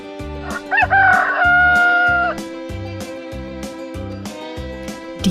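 A rooster crows loudly and close, over a repeating rhythmic backing pattern, while chickens cluck intermittently before and after the crow.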